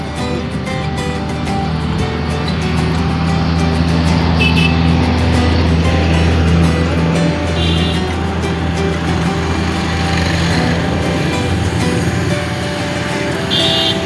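A car pulls away out of a traffic jam on a city road past a metro line, its engine a steady low rumble with road noise that stays loud and even for the whole stretch.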